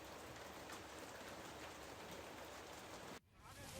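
Heavy rain pours in a constant broad hiss, close and steady for several seconds, then cuts off abruptly before faintly returning.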